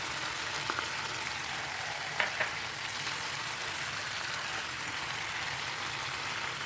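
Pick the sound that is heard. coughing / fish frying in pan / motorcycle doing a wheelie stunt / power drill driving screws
fish frying in pan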